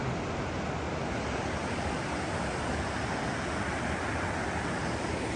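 A lovely mountain river, a hot-spring stream at Syauli Bhatti near rocky banks, rushes in a steady, broadband wash that stays loud and unbroken from start to finish, with no voices.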